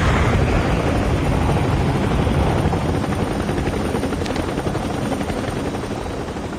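A helicopter in a Call of Duty Battle Royale match produces a loud, steady rotor roar that fills the whole stretch, easing slightly toward the end, with no speech.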